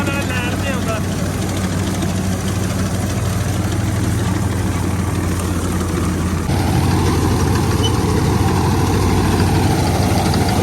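A Mahindra 275 DI tractor engine idling with a steady low rumble that is loud and continuous throughout, its tone shifting slightly partway, while someone speaks over it.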